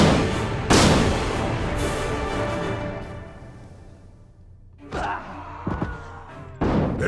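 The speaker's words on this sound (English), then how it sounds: "got cannons!" Cannon fire in Guild Wars 2 during a battle: heavy booming blasts ring out and decay over a steady noisy din, with a lull before several more sharp thuds near the end.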